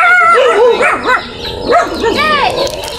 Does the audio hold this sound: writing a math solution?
no